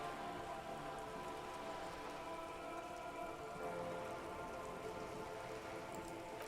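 Steady rain patters on surfaces in the video game Disco Elysium, faint and even with no voices.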